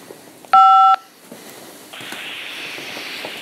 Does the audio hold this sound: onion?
no